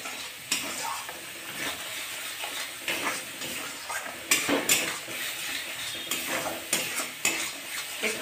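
Masala with cumin and coriander powder being stirred and fried in a pan for shahi paneer, a steady close sizzle broken by scraping spatula strokes and occasional clinks against the metal.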